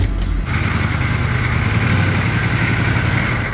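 A Toyota Landcruiser 60 on BFG tyres crawls uphill in low-range first gear, its engine droning loud and steady at close range with a constant low throb and mechanical whine.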